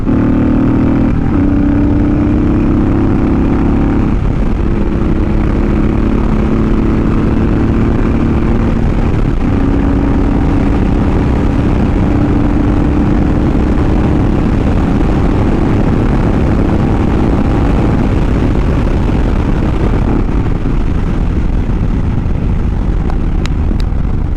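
Honda VTX1800 cruiser motorcycle engine under way, a loud, steady low-RPM drone in a higher gear with wind rumble throughout and a slight pitch shift partway through, no voices.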